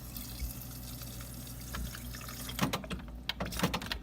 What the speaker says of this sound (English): Gonna get some water out the fridge.